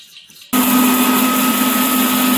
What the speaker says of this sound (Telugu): ఇవంతా ఇవి మిక్సీ పట్టుకుందాం.